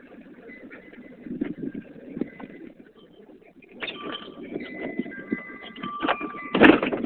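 Pigeons or doves coo and call outdoors during a winter storm, soft repeated calls spread through the scene with a few sharper chirps later, fairly close, no talking.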